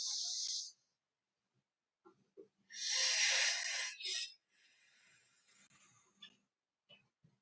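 A person draws in deep, audible breaths during a posture exercise session, with two breathy inhalations close by and soft rustling in between.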